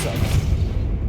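Depulso spell cast in the video game Hogwarts Legacy, a deep booming blast with a low rumbling body and airy hiss, loud and sustained for about a second with no talk.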